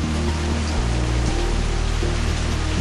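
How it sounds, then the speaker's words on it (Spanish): Rain falls outside in a steady, dense hiss that never lets up, with a low hum running beneath it. "poquito fuertes es porque está lloviendo, no se preocupen"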